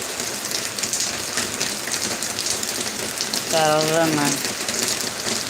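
Heavy, steady monsoon rain during the Aippasi month downpour, a dense, even hiss close by, with a short tonal vocal sound rising briefly near the end.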